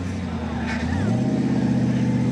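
FJ Toyota tribute 4x4 truck at an extreme off-road challenge crawling over an obstacle, engine droning low and steady with a slight rise in pitch partway, while a commentator talks over it.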